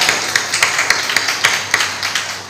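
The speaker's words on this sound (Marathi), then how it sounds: "सभागृहातील संचालक मंडळाने जोरदार टाळ्या वाजवल्या पाहिजे" A meeting-hall board of directors applauding, with loud, close, rapid claps repeating at a steady pace over a continuous crackling wash of hands.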